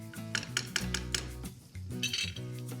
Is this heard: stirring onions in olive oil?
yes